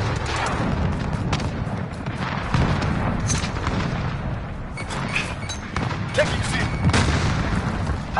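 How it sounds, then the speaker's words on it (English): Cruise missile strike explosions in Call of Duty Modern Warfare, a steady roar of distant booms and gunfire with scattered sharp blasts, mixed with faint voices. "Allied cruise missile on the way."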